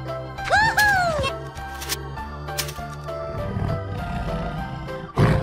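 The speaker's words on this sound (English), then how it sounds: "Lion." Toy lion letting out a sustained synthetic roar near the start, followed by a jingling electronic tune and a short clatter at the end, close and fairly loud.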